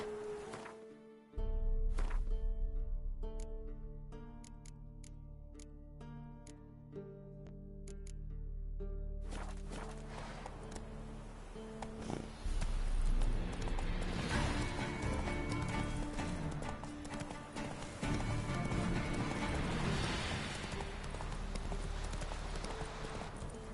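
A horse being ridden, its hooves clip-clopping in a steady rhythm that grows busier and louder, with neighs and a noisy rushing backdrop as the pace picks up.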